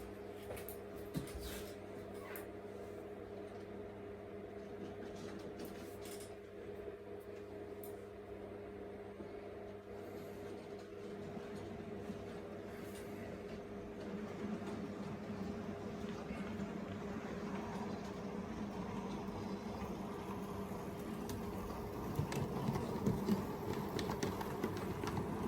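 A faint, steady mechanical rumble and hum of a model K1 locomotive pulling a short train along its track, growing slightly louder toward the end, with occasional clicks.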